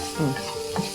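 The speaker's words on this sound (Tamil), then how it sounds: "ஒரு திருப்பு திருப்பிட்டு" Mango mash tempering being stirred in a pan with salt and turmeric, a brief scrape of a spoon over a soft sizzle, close and alone without talk.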